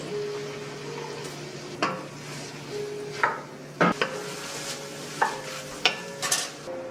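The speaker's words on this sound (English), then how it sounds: "So I add the mushrooms, shallots, and saute." Mushrooms and shallots sauté in a pan with a soft, continuous sizzle, punctuated by sharp scrapes and clinks of a utensil stirring against the pan.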